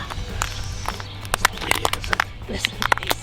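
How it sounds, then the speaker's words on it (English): Crisp crunching steps close by, a series of sharp crackly snaps as something brittle is crushed underfoot, with faint talk mixed in. "It's good because it crunches under your feet as well."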